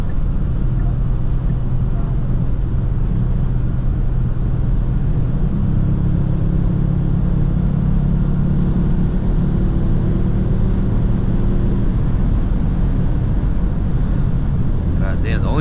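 2018 Kia Stinger GT cruising at high speed on the road at night, a steady loud drone of engine, tyre and wind noise from inside the cabin, with someone talking over it.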